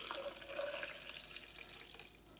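Green vegetable juice poured through a small strainer, a continuous trickling, splashing flow close up with faint dripping and no talk.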